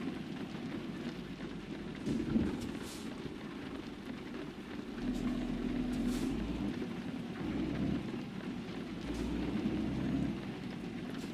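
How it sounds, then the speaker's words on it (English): Steady rainfall in a video game with low rumbling, like a storm, continuous and moderately loud, with no voices. "It's raining right now anyway."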